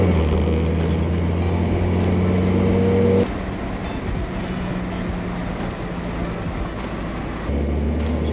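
A car driving along on a morning drive, its engine a steady close drone that drops to a lighter rumble partway through and then swells again near the end, with no talk.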